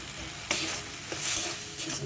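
Tomato chutney with mustard, green chili, garlic, salt and turmeric being stirred in a pan, a soft continuous sizzle with a few spoon scrapes and brief louder stirring strokes.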